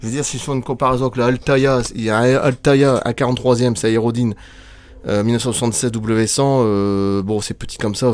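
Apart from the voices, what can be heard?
No everyday noise stands out behind the speech.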